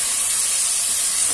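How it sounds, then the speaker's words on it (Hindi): Chicken pieces frying in a pan, giving a steady, loud, bright sizzling hiss that runs unbroken for the whole short stretch, with no voices over it. "इतनी देर तक मैं इसको फ्राई करूंगी जब तक ये इसका कलर नहीं चेंज हो जाता"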